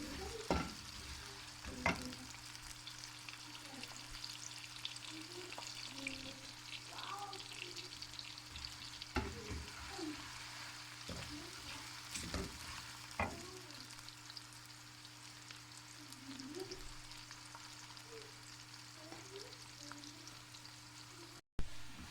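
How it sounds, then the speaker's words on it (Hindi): Onion, garlic and ginger fry in a pan for an egg korma, giving a soft continuous sizzle with scattered stirring scrapes and clicks, quiet and close, with no talking. "अब हमारे प्याज, लहसुन, अदरक हल्का हल्का ब्राउन होता जा रहा है।"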